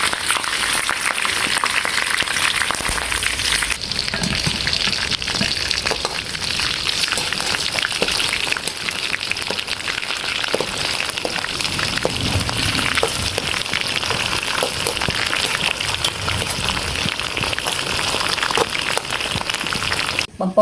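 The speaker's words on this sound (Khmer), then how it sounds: "បំពងបង្គាហើយយើងចាក់ដាំបំពងសណ្តែកដី" Shrimp frying in hot oil make a steady, loud crackling sizzle that holds unbroken for about twenty seconds, close by and with no voices.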